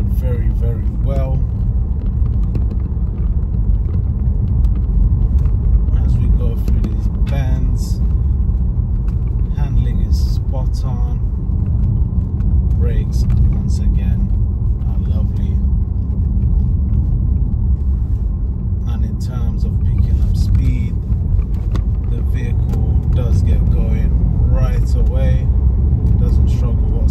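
A 2016 Range Rover Evoque 2.0L TD4 SE Tech is heard from inside while driving on a road, a steady low rumble of engine and tyres beneath near continuous talking.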